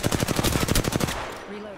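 Rapid automatic gunfire in the video game Apex Legends, a fast burst of about a dozen sharp close shots lasting just over a second, then fading into a quiet ringing tail.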